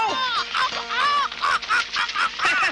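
A crow gives a rapid string of harsh, nasal caws, close and fairly loud, with several calls in quick succession.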